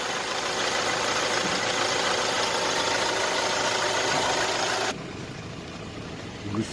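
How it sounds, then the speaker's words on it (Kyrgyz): A 2014 Hyundai Porter truck engine idling steadily up close, a continuous mechanical rumble that drops noticeably quieter near the end. "Мотору жымылдайт мына"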